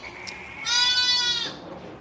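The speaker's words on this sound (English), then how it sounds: "I'm just watching a sheep here, sorry." A sheep on a farm gives one sustained, wavering bleat, fairly close and clear against a quiet background, preceded by a brief faint call.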